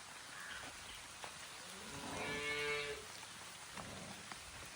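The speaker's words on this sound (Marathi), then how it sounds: "पाऊस आला" Quiet, steady patter of rain falling at a village cattle shed in Konkan, with a cow lowing nearby for a couple of seconds midway.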